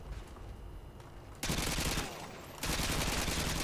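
Rapid gunfire bursts in Call of Duty Modern Warfare 2 multiplayer, dense continuous rattling shots at moderate loudness, growing heavier in two steps over a few seconds.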